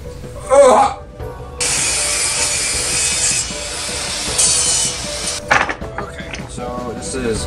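Hand sawing through wooden pieces for a 12-sided cannon wheel, a steady rasping cut running for several seconds after a brief knock, close and fairly loud with no talk.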